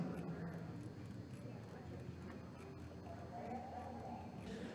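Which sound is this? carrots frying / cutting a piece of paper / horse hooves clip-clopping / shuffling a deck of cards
horse hooves clip-clopping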